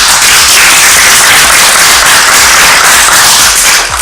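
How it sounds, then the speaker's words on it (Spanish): Loud, dense applause from a large crowd at a conference event fills the whole clip, a continuous roar of clapping. "démosle un gran aplauso"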